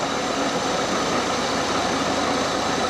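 An old Jeep engine, just revived after sitting parked for 15 years, runs with a loud, steady, rough idle, a dense clattering rumble with a ticking knock and vibration that stays constant throughout.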